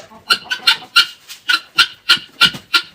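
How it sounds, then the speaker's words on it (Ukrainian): Laying hens cluck around feeding time in a run of about nine short, rhythmic calls, loud and close with brief gaps between them. "І йдемо до погодуємо нашу пташечок."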